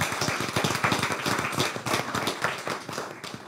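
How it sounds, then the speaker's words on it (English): People at a city council meeting give a round of applause for a runner-up state school team, a steady stretch of many hands clapping that rises and then tapers off slightly, with no voices over it. "Let's give them a round of applause."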